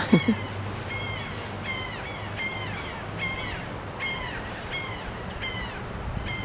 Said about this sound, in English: She hears the seagulls.